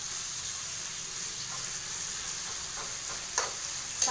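Onions frying in a pan until brown give a steady, soft sizzle throughout, with a couple of brief clinks or stirs near the end and no talking.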